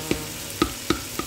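Chopped tomatoes frying in a pan while being stirred, with a steady sizzle broken by four sharp scraping clinks of a utensil, close and fairly loud, with no talk.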